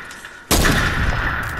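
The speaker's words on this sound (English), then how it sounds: "I need to shoot this tree out the way." A gun fired at a tree in the Fortnite video game: one sharp, loud blast after a quiet moment, then a sustained roar of burst noise lasting to the end.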